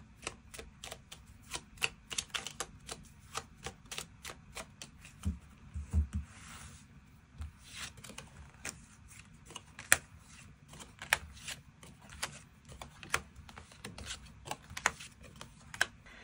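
Tarot cards are shuffled and drawn in a steady run of crisp, rapid clicks and flicks that lasts the whole stretch, close and fairly loud over a low rumble, with no voices.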